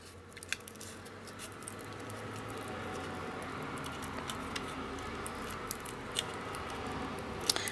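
Small scissors snipping through a lollipop's plastic wrapper during a Halloween paper-craft treat project, giving a soft, steady crinkly patter with a few faint sharp snips over the close-miked tabletop.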